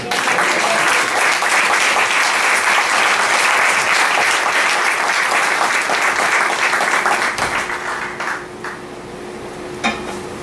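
A church congregation claps together in sustained, dense applause, loud and steady before tapering off toward the end.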